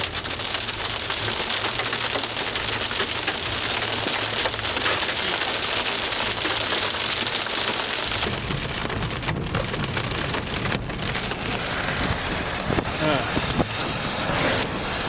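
Hard hail pelting a car roof and windows while driving through a storm core during a tornado outbreak, a dense, constant clatter that grows harsher and sharper partway through, with occasional louder impacts.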